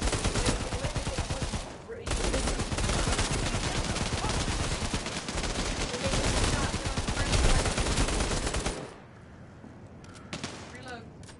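Gunfire in the shooter game Bravo Team: dense, rapid bursts of automatic fire and shots packed together for about nine seconds, loud and close, then cutting off to quieter sound with a few scattered hits.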